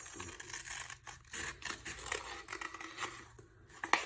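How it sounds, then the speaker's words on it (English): Scissors snip through paper for Polish wycinanki paper cutting, a close, irregular run of crisp cuts and rustles with short pauses between strokes. "we stick with scissors, so something we can cut out"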